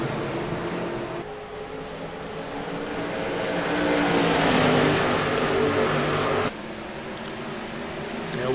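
Stock race cars roar around the New Hampshire track, a continuous engine drone that swells as the pack passes close, then drops abruptly back to a steadier, more distant hum.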